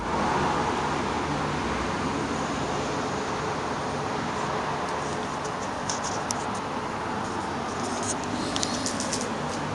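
Highway traffic beyond a noise barrier fence on the edge of a village near Poltava, a steady broadband roar from passing vehicles with faint bird chirps scattered over it.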